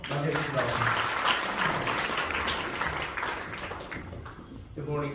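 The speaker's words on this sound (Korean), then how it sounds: "더 큰 박수로 맞이해주시기" Sustained, dense applause fills a hall at an international symposium in Seoul, loud and steady before thinning out, with a voice speaking over it near the end.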